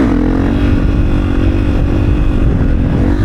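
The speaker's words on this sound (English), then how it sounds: "I think my exhaust sounds a lot different too" A supermoto motorcycle engine roars steadily and loudly close by, a continuous throaty exhaust drone with no speech.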